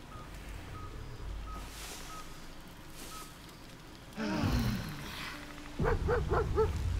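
A dog barks in the fantasy role-playing game Baldur's Gate 3, with a few loud, close yelping barks in two short bursts after a quieter stretch of faint ambient game sound and a repeating soft tone.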